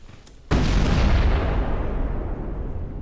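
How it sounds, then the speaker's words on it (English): Dynamite detonates in the video game Peak with a single loud, sudden boom that rolls into a long, rumbling roar filling the rest of the moment, with no voices over it. "I did not think it was gonna have such a big explosion radius."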